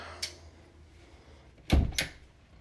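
A small hidden door panel in a house opens with a soft click, then a sharp clunk and a second knock in quick succession, over quiet room tone.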